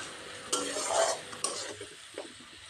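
Grated masala of onion, ginger, garlic and green chilli stirred in hot oil with salt and turmeric over medium heat for Bengali egg curry, with soft sizzling and two sharp spatula scrapes against the pan.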